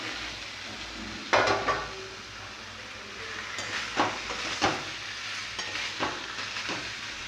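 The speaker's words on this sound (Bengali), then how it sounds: "একটু কষানোর পর আলুগুলো আবার ঢেলে দেবো দিয়ে একটু ভালো করে কষিয়ে নেবো" Potatoes and spices are sautéed in a pan for a dhaba-style dish: a continuous sizzle broken by a few louder clanks and scrapes of the spatula against the metal, close up, with no speech.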